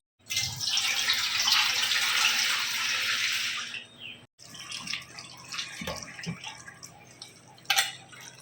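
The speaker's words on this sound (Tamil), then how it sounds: "இந்த மாதிரி கஞ்சி நல்லா தண்ணி ஊற்றி நல்லா கரைச்சிக்கலாம்." Water pours into rice flour in a kitchen while kanji vathal batter is prepared: a strong, close splashing stream for about four seconds, then stops, followed by softer stirring and sloshing with a few sharp clinks.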